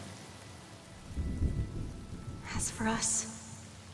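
Rain pours steadily in the Honkai: Star Rail game while low thunder rolls and rumbles, with a sharper crack near the end and a voice speaking briefly over the storm.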